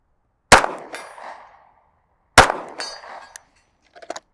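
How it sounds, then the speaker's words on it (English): Two loud pistol shots ring out a couple of seconds apart, each followed by a metallic clang of bullets striking steel targets 50 yards downrange, then a few faint clicks. "Two hits, pretty darn quick for 50-yard shots, getting good solid hits."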